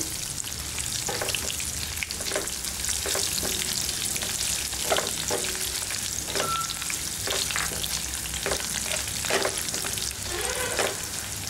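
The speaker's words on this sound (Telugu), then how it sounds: "ఇప్పుడు ఇందులో దంచిపెట్టినటువంటి వెల్లుల్లిపాయ, ఎండుమిర్చి వేసుకోవాలి. వాటిని కూడా కాస్త వేగనివ్వాలి" Crushed garlic and dried red chillies frying in a tempering for a cluster beans coconut masala, with a steady crackling sizzle and repeated scrapes and taps from stirring, close by and with no talk.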